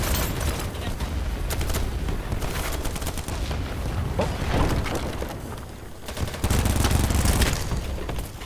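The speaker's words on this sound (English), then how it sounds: "A lot of bullets." Dense gunfire in the Battlebit video game, many rapid bullet shots crackling in overlapping bursts with booms and mechanical clatter, loud and continuous, briefly dipping before surging again.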